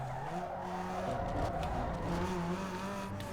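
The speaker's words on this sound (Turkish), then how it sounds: "Şöyle hafiften bir el frenini çektim." A Nissan Sentra in Need for Speed Underground 2 skids under a light handbrake pull, a sustained tire squeal over a steady engine drone, loud and continuous with no talking.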